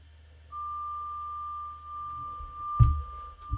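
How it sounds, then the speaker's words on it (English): A steady high pure tone from a frequency generator app on a phone starts after a brief pause and holds evenly, followed near the end by a short thump and a clatter. "on the phone, I've got a little frequency generator so I can make particular tones of music"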